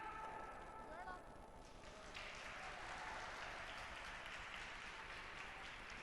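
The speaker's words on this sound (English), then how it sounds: "Hear the crowd going wild there." Curling arena crowd at a world mixed doubles event cheers and applauds after Ireland scores against Switzerland, a steady broad roar swelling and holding under commentators' speech.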